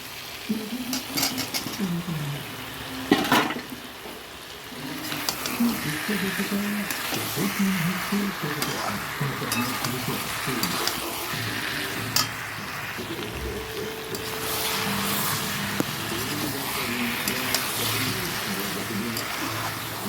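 A spoon stirs chicken curry as fried potatoes go into the pan, the mix sizzling softly beneath a voice, with occasional scrapes and clanks against the pan close by.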